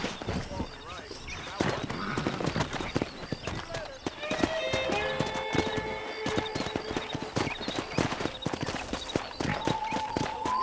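A herd of wild horses gallops in Red Dead Redemption, steady clip-clop of hooves with whinnies and neighs rising over a busy game soundscape.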